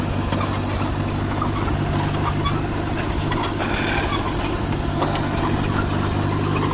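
An old John Deere 1010 bulldozer engine runs steadily at a low idle, a continuous mechanical drone that stays even throughout with no pauses.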